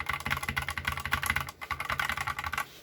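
Fast typing on a keyboard fitted with Gateron optical white switches, a dense, close clatter of keystrokes with a brief pause midway, loud and alone.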